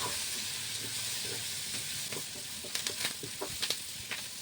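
Curry leaves and other chutney ingredients fry in a pan with a steady, close sizzle and hiss, broken by a few sharp stirring scrapes toward the end, with no voices.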